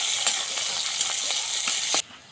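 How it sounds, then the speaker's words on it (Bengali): Chopped onions with cumin, garlic and chilli frying in a pan, a loud, close, bright sizzle with a few stirring scrapes, cutting off abruptly near the end. "এটা এখন ভাজে নিব।"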